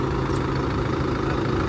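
A Sonalika 60 tractor engine idles in a steady, even low rumble with constant vibration, close and loud with no talk.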